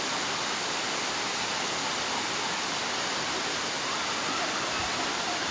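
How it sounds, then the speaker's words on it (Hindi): A tall waterfall in Bolzano, Italy pours down under high pressure, a dense steady roar of falling water that fills the whole clip without a break. "Waterfall of the world. बेहतरीन आबशार है ये देखें।"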